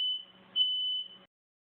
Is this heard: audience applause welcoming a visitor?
no